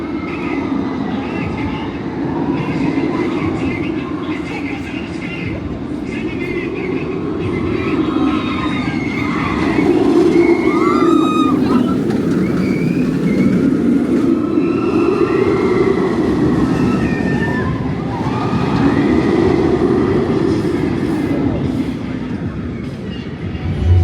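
Nemesis roller coaster trains running at Alton Towers, a loud sustained rumble with rising and falling roar and faint wheel screeches, steady throughout.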